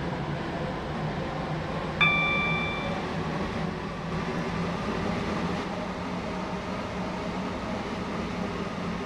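Steady broadband rumble of a four-coach passenger train running in the Roblox video game, with a brief chime-like tone near the start, continuous and even throughout with no talking.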